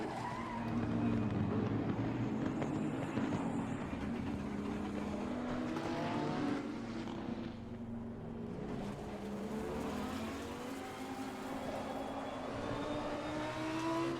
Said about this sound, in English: Massive spin out from me.